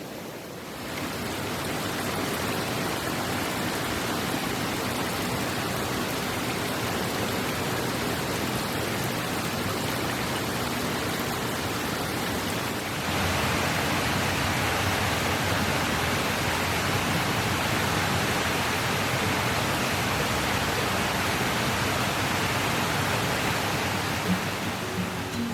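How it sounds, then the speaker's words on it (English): Rushing river water in a snowy winter setting, a dense continuous roar of flowing water, loud and close, unbroken for the whole stretch. "when you can only hear the rushing water as the snow absorbs every other sound"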